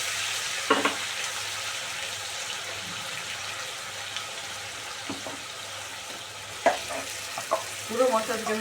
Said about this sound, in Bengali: তো এগুলোকে আমি এখন ভেজে নেব, ভালো করে দিয়ে দেবো